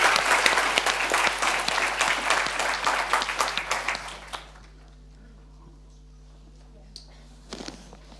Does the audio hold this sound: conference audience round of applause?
yes